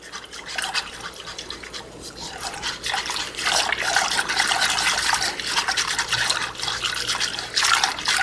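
Lemon pepper wing sauce being stirred in a pot, a steady wet swishing and sloshing that builds and stays loud and close, with a little quiet talk in the background.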